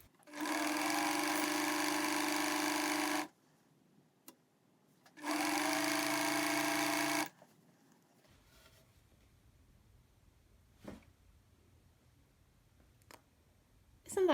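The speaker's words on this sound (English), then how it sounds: "So I've just sewn from here to here without bobbin thread." A sewing machine stitches in two steady bursts of about three and two seconds. Between and after them come a few faint clicks and handling sounds in a quiet room.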